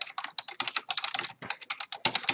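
Fast, continuous typing on a computer keyboard, with crisp, close key clicks in an irregular rapid rhythm and no voices.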